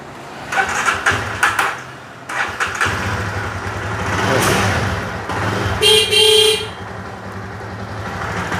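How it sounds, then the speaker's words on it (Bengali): A Jawa Perak motorcycle being started after a wiring repair: several short cranking bursts, then the engine catches and runs, a horn sounds briefly, and it settles into a steady close idle. "ফিটিং করে গাড়ি স্টার্ট করে আপনাদেরকে দেখাচ্ছি"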